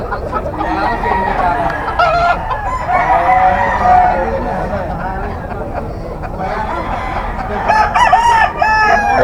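Bull stag roosters at a gamefowl market in Bocaue crow repeatedly and loudly, several birds overlapping with clucks. A voice talks steadily underneath.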